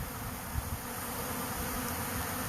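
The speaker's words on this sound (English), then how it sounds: "This is a huge swarm." A large honeybee swarm drones with a dense, continuous buzz, steady and close, filling the air without pause as the bees move into a custom hive.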